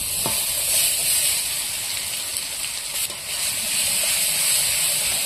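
Tomato paste with turmeric and chilli powder frying in oil in a pan for a fish dish, a loud, hissing sizzle that dips briefly then swells again, close by, no speech.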